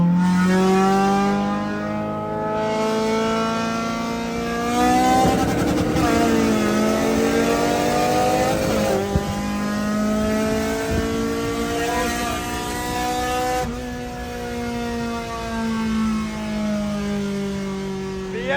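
A K-series turbo Honda EG hatch racing a V8-swapped BMW E36, with loud engine roars climbing through the gears in rising sweeps and brief dips at each shift, heard close throughout.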